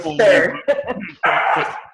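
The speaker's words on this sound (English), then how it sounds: "my dogs are barking even at my memory" Dogs barking indoors, a few loud close barks and yips in quick bursts with short gaps, heard alone without talk.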